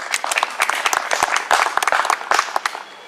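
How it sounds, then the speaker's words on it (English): A crowd applauds steadily, dense overlapping claps continuing throughout at a lively, even level. "A round of applause for him."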